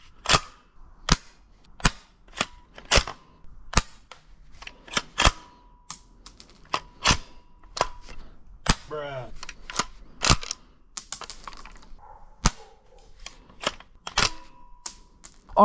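A shell-ejecting airsoft gun fires single sharp cracking shots in an irregular series, each a crisp snap close to the mic, with small clattering sounds of ejected shells between them.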